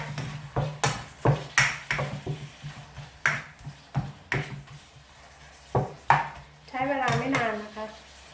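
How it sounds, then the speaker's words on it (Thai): Ingredients being stir-fried in a pan for Thai-style drunken spaghetti, with repeated sharp clacks of a utensil against the pan at an uneven rhythm over a low sizzle, and a brief voice near the end. "เราจะผัดให้เขาหอมแล้วก็สุกก่อนนะคะ"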